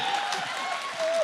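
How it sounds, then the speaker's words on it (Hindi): Brief audience clapping at a Hindi comic poetry recital, a moderate patter of hands with a few voices mixed in. "अब आपकी तालियां आई"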